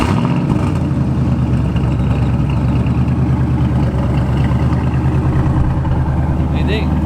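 A Ford Mustang Fox Body engine catches and settles into a steady, loud rumbling run, close by, with a slight rise in revs toward the end.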